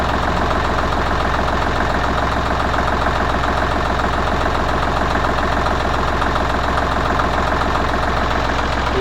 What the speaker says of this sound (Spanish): ahora está el ralentí, a 800 vueltas más o menos